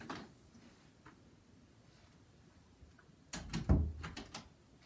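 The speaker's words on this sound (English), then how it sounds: "let me close the door" An indoor bedroom door is shut at close range near the end, a sharp knock and clatter with a few short rattles after a stretch of quiet room noise.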